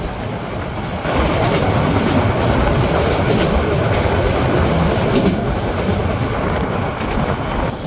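Porjotok Express train rolling across the Matamuhuri river railway bridge at night, a steady loud rumble of wheels and carriages with rhythmic clatter filling the whole stretch, swelling after the first second and continuing unbroken.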